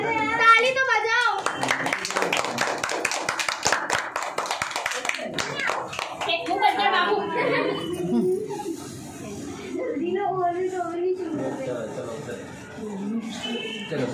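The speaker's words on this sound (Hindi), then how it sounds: "ताली तो बजाओ।" Children and family clap rapidly and enthusiastically at a first anniversary celebration, a burst of close hand claps in the first few seconds, then voices talking and calling out over the rest.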